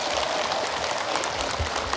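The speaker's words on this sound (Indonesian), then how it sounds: "Sudah, tepuk tangan" Steady applause from an audience at an Indonesian religious talk show, many hands clapping in a continuous even patter at moderate volume, no voices standing out.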